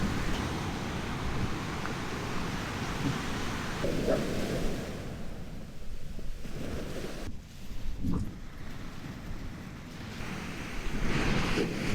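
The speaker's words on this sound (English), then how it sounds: "The tide is definitely coming in" Incoming tide washing over a rocky beach on a remote island coast, a continuous broadband roar of surf with surging swells and some wind buffeting the microphone, no voices.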